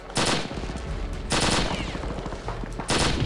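A Normandy World War II shooter game gives three loud, close bursts of rapid automatic gunfire, each about a second long, with a steady background rumble between them.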